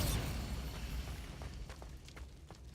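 A Bombarda explosion spell going off in Hogwarts Legacy, a broad loud boom at the start that decays into a rumbling tail with a few faint crackles.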